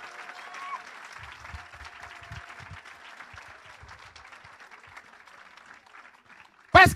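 A church congregation applauds and cheers in worship, a steady wash of clapping and crowd noise that ends in a sudden loud burst.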